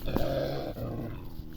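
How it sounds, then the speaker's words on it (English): Dogs on a farm confronting a black dog, snarling and growling continuously up close in one short, tense burst, with no talk. "don't do anything, just barking."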